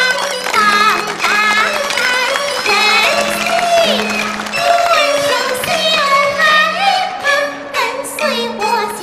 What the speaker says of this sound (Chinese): 叫掌声